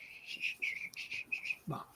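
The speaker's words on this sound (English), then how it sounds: "I'm gonna try walking casually and whistling" A person tries to whistle casually while strolling but can barely manage it, producing a string of breathy, airy whistle notes in short bursts that ends with a brief voiced sound.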